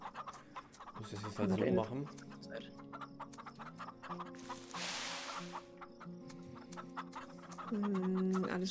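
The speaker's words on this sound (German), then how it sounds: "Jetzt laufen die Hühner alle so ganz langsam rüber in ihr eigenes Feld." Chickens in the farming video game Farm Together cluck and chatter in a busy, overlapping flock, with a short burst of noise partway through and steady game sound beneath.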